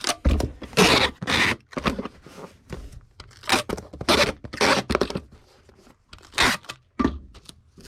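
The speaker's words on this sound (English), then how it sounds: "Let me get this taped up." Packing tape rips loudly off its roll in repeated sharp bursts, stretched and pressed down to seal a shipping package, close up with short pauses between pulls.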